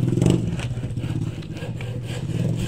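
A motorcycle engine runs nearby with a steady, throaty hum that rises and falls slightly as it revs.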